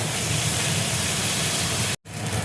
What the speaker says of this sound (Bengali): অল্প করে জল দিয়ে দিচ্ছি, নাহলে মশলাটা পুড়ে যাবে